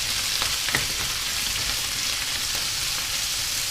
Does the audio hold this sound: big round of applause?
no